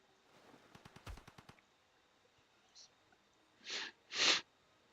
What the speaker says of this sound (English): Sniffles.